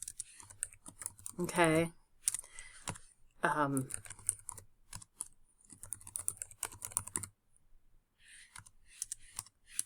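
Steady typing on a computer keyboard while writing a document in Word: rapid, close key clicks come in irregular bursts throughout, with a voice speaking briefly over them.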